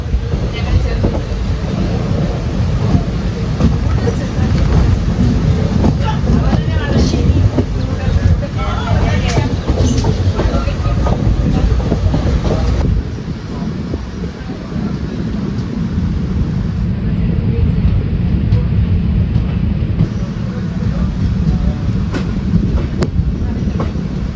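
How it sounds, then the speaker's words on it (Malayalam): A train rumbles loudly and continuously as it rolls into Palakkad Town railway station, its heavy mechanical roar easing somewhat partway through. "നമ്മൾ പാലക്കാട് ടൗൺ റെയിൽവേ സ്റ്റേഷനിലേക്ക് കയറിക്കൊണ്ടിരിക്കുകയാണ്"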